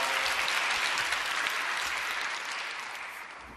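A church congregation claps steadily at an early-morning prayer service to welcome the pastor, the dense crowd applause fading gradually toward the end, with no one speaking.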